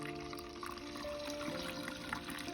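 Goat milk pours through a strainer set on a funnel, a soft, steady trickle of liquid lasting the whole moment under a faint hum.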